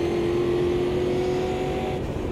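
A race car engine in the Automobilista 2 sim, running at the Autodromo do Algarve, holds a loud steady drone at full power throughout, with a sustained tone and no talk.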